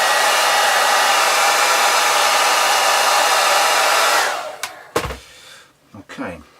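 A hair dryer blows steadily and loudly to dry paint on the underside of an Airfix 1:72 Lightning model aircraft, then cuts off after about four seconds, leaving faint handling sounds.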